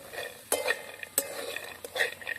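A spoon stirring mustard seeds, curry leaves, peanuts and onion frying in a pan for kanda poha, with several close scraping clinks over a soft background sizzle, no talking.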